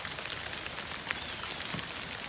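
Soft, steady rain patters on a surface, a fine hiss dotted with faint droplet taps, distant and unbroken.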